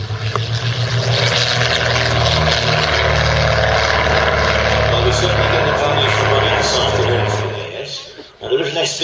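A de Havilland DH 88 Comet propeller plane roars past on a missed approach, engines droning loud and near for several seconds, then fading abruptly with a brief final surge.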